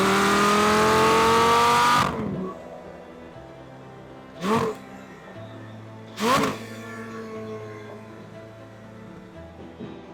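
A Lamborghini Gallardo Concept S engine roars loudly while driving on a causeway, then cuts off abruptly, leaving a low idle hum broken by two brief revving bursts.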